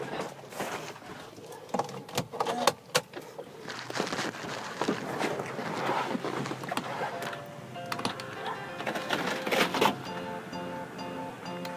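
The electric rear window motor on a used ex-taxi Mercedes V-Class whirs and hums mechanically, with clunks and clicks of the mechanism and a steadier tonal drone toward the end, close and fairly loud, with no talk over it.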